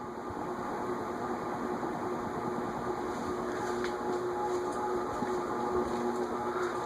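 Leading Edge A-60 industrial ceiling fan running, a steady broadband whoosh of moving air with a low motor hum, constant and moderately loud with faint clicks.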